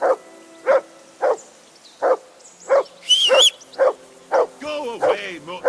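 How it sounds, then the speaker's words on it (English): A dog barks repeatedly in Kingdom Come Deliverance 2, eight or nine evenly spaced loud barks at close range, with brief talk and other game sounds mixed in near the end. "I assume you can hear that damn dog of yours barking."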